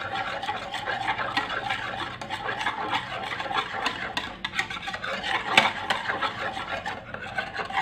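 Purple sweet potato pudding mix with added salt and agar being stirred, a steady close scraping and rubbing of a utensil against a bowl, continuous with small knocks, no voices.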